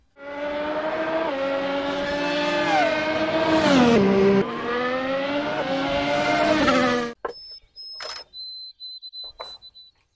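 A toy F1 race car's high, buzzing engine whine revs up and down in pitch for several seconds, then cuts out, followed by a few short electronic beeps and clicks.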